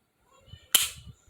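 A single sharp, close trigger-reset click from a Taurus GX4 pistol during dry-fire, preceded by faint handling noise and a brief murmur of speech.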